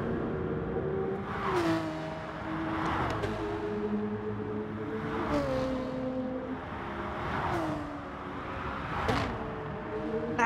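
A Gr.3 race car laps the Tokyo Expressway Central Outer Loop in Gran Turismo Sport, its engine droning and rising repeatedly through gear changes and braking at steady intervals, with no talk.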